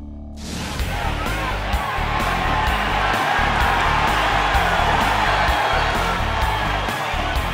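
Thousands of excited fans roar and whoop at the first mixed martial arts fight night in Maryland history, a loud, sustained arena cheer that erupts suddenly and stays dense and constant.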